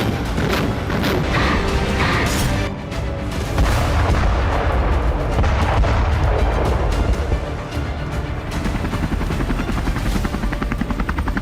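Artillery fire and shelling in the Russia-Ukraine war, a loud, unbroken roar of heavy booms and blasts layered with a droning, rotor-like rumble throughout, with no pauses.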